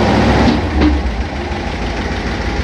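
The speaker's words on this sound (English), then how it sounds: "That noise you heard, that's from the muffler." Engine revving after a cold start, with loose internal muffler baffles adding a rattling, rumbling buzz; a steady, close, loud engine drone runs throughout with no talk.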